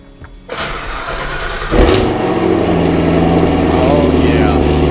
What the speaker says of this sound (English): There's something about hearing that Corvette Extreme system. When you light this baby up on a cold start.